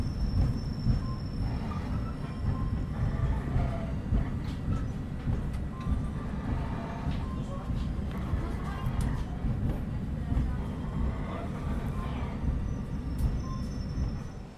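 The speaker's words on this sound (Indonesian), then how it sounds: "pukul 19:48 kereta api Brawijaya telah tiba di stasiun Madiun" The KA Brawijaya executive-class passenger train pulls into Madiun station with a heavy, continuous low rumble, a thin high wheel squeal surfacing now and then, and faint scattered clatter throughout.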